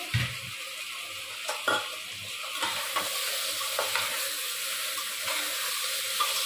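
Ginger, onion, garlic, whole cumin and two green chillies fry in mustard oil, giving a steady, close sizzle with a few scraping stirs and small pops throughout.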